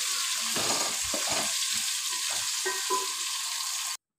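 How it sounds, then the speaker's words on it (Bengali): Salted potato pieces frying in oil for a Bengali mutton and potato curry, a dense continuous sizzle close up with some stirring scrapes, alone before it cuts off. "আলুগুলোকে আমি একটু ভেজে নিচ্ছি ভালো করে"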